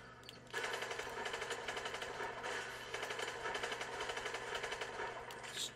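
Call of Duty Advanced Warfare gunfire: a rapid automatic burst starts abruptly after a short pause and rattles on steadily at moderate volume until the end.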